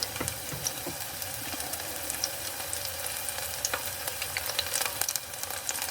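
Garlic sizzling loudly in a hot pan while being stirred, a constant bright crackle with occasional scrapes of the stirring utensil.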